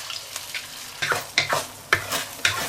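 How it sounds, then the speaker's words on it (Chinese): Beaten egg hitting hot oil in a pan, giving bursts of sizzling and crackling with a few sharp stirring scrapes, close and fairly loud with no talking. "锅里加油，油热，我们把鸡蛋液倒进去"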